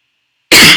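A single harsh, close cough bursts out of silence, loud and abrupt, with a throaty rasp fading over a fraction of a second.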